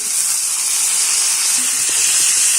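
Onion and tomato sauté in hot oil for a fenugreek gravy, a loud, continuous, steady hiss of frying close by with no talking.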